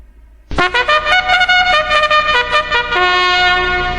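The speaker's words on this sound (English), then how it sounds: "That sound is produced by trumpet." A solo trumpet plays a bright, loud phrase of short, separate notes that settle into one long, sustained tone, sounding close and alone.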